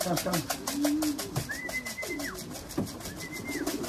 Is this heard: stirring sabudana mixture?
no